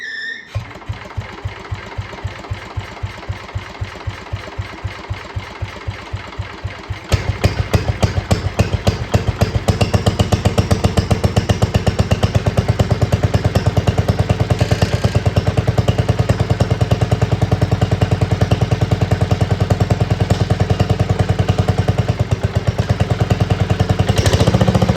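Antique John Deere 112 garden tractor engine, recently repaired after a spark plug gap fault, runs steadily and close up; a slower ticking idle for the first seven seconds jumps into a louder, faster, continuous clattering drone.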